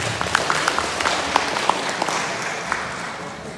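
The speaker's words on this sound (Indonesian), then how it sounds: "Tepuk tangan." Sparse applause from an audience at an official farewell-and-welcome ceremony for outgoing and incoming regional religious affairs officials in North Sulawesi, with a few distinct claps over a broad, steady hiss of the room.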